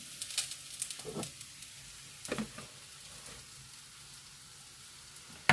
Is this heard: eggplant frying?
yes